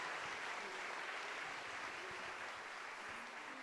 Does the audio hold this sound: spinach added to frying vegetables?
no